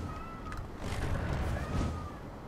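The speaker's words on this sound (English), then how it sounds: "my cat is deciding to walk into the room and start meowing at me" A cat meows indoors, a few thin drawn-out calls at moderate distance over a steady background of computer game sound, with no speech.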